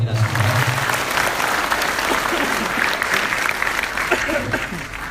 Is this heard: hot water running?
no